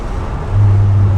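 A 1994 Dodge Viper RT10 engine drops into third gear, its low exhaust drone rising into a steady, louder rumble partway through, close and with no voices.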